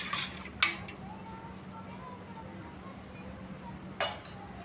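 Salted curd and green chillies being mixed in a bowl, giving a few faint clinks of a spoon against the bowl over a quiet, steady background hum.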